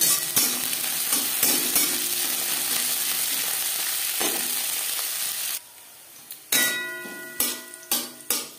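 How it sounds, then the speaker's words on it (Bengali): Potato and cauliflower frying in mustard oil in a pan give a loud, steady sizzle that cuts off abruptly, followed by a few sharp metallic clanks of a utensil against the pan. "আলু ফুলকপি ভাজা হয়ে গেছে"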